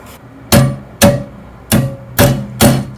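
A hammer strikes a homemade copper rivet into metal five times, each a sharp ringing metallic blow, spaced about half a second apart, close and loud.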